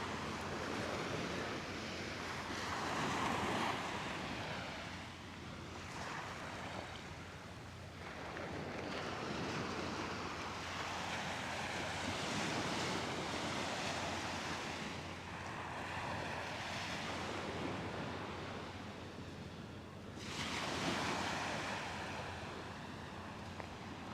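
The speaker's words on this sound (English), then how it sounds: "Love the sound of the waves," Surf rolls onto Coney Island beach in New York in steady, rushing swells with a broad hiss, blended with gusty wind buffeting the microphone; the wash rises and falls in several slow surges with no clear talk.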